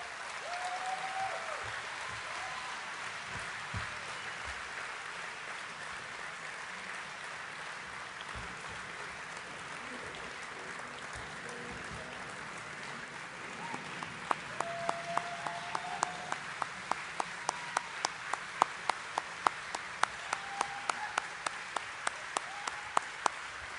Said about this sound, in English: Let's have another hearty round of applause for our newest Hall of Famers.